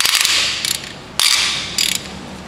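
A half-inch ratchet works on cylinder head bolts of an Audi/VW 1.8L engine, with three quick bursts of sharp metallic clicking separated by short pauses, close and loud.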